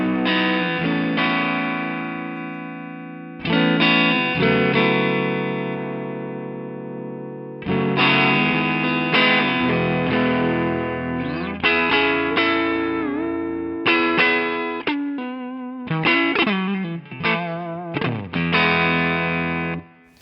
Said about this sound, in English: So let's bring everything back to noon here and then put it in distortion mode.